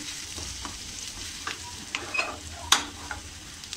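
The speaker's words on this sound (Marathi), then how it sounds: "दोन मिनटं आपल्याला हे परतायचं आहे आणि बारीक गॅसवरच आपल्याला परतायचं आहे." Paneer masala being sautéed on a low gas flame, a soft low sizzle broken by intermittent spoon scrapes and clicks against the pan, one sharper knock near the end, no talking.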